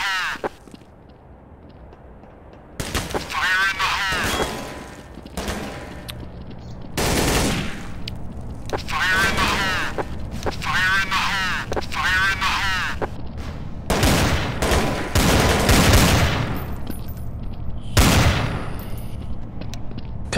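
Shooting video game gunfire erupts in bursts of rapid automatic fire and single shots, with some quieter gaps between, while someone talks over the action.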